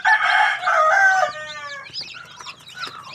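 Gamefowl chickens cluck and crow close by, a loud rooster-like call at the start giving way to scattered clucking and squawks.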